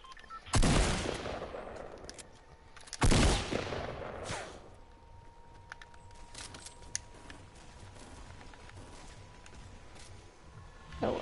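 Gunfire in the video game Fortnite played on PS4; two loud, sharp blasts a few seconds apart, followed by quieter in-game ambience with faint clicks and a soft tone.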